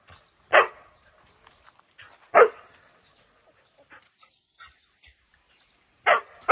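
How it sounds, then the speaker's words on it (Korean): A dog barks sharply in a yard, three or four single loud barks spaced a couple of seconds apart, with quiet gaps between them. "짖지 마라."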